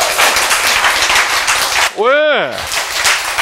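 An audience claps in a dense, steady burst that is briefly cut off by a single spoken word, then resumes loud and close.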